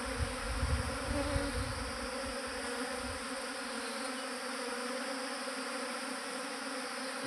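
A large swarm of honey bees buzzes in a dense, continuous drone, close and steady throughout, with a few louder low rumbles near the start.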